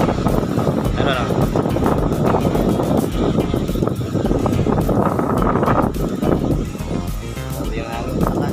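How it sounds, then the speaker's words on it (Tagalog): Strong wind buffeting the microphone beside a highway, a loud continuous rushing roar with passing traffic noise, while people talk over it. "Lakas ng hangin dito."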